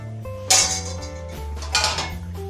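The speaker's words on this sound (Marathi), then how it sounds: "चला झाकण काढून बघूया।" Lid lifted off a cooking pot of toor dal, with two clattering metallic knocks about a second apart, close and fairly loud, over a steady humming background tone.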